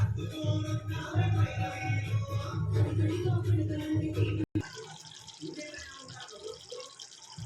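Masala vada pulusu, a tangy gravy with lentil fritters, bubbling and simmering in a pot, a steady wet bubbling with a voice talking over it before it continues alone.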